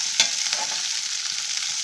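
Ginger and curry leaves fry in a pan with a bright, steady sizzle, punctuated early by a sharp spatula knock and a softer tap shortly after, no voices.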